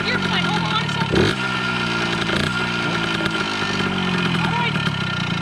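A 1974 Yamaha MX100 motorcycle engine runs steadily after repair, a buzzing two-stroke drone with brief throttle surges, heard close up while people talk nearby.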